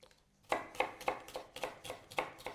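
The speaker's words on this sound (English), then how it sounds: "you want to be sure that you get very thin dices of shallots" A knife finely dicing shallots on a cutting board, a quick, even run of about nine close crisp chops in a rhythmic pattern, with no talk.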